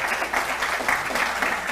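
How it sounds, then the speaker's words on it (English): Brief audience clapping at a community showcase event, a short burst of moderate, fairly close applause from a small group lasting under two seconds. "I want to take this time to clap for them,"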